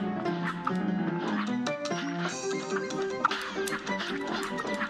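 Three puppies from the Cuphead DLC bark in quick yappy bursts over busy, layered game music, the barks short and overlapping throughout.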